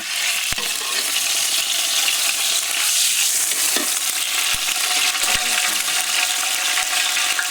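Drumstick (nuggikai) frying in groundnut oil in a village kitchen, a steady loud sizzle running throughout, with a few sharp pops and clicks from stirring.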